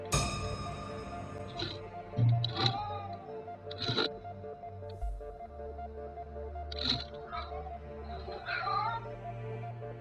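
A cat meows several times, drawn-out and plaintive, over a steady low hum with a few soft thumps and rustles, captured by a home CCTV camera.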